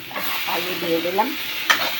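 Potatoes tossed into a crab curry sizzle and fry in the pan while being stirred, with a steady hiss and scraping stirs throughout, close and alone with no talk.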